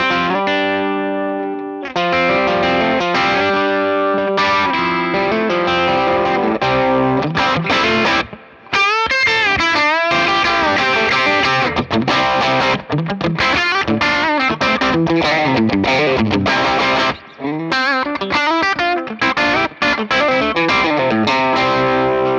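Distorted electric guitar through an Origin Effects M-EQ mid booster pedal with a muffled, dark tone, playing chords and sustained notes loudly with brief pauses, no talking.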